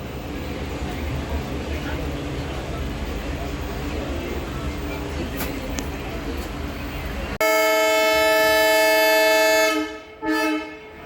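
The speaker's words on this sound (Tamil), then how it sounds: "காரைக்குடி ட்ரெயின் கிளம்பிகிட்ருக்கு" A passenger train running from Virudhunagar to Karaikudi sounds a loud, sustained horn that starts abruptly, holds steady, then cuts off briefly and returns. Rumbling, noisy background comes before it.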